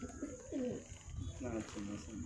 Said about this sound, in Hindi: गिफ्ट की वजह से 5 कबूतर अपने सेटअप पर आ गए हैं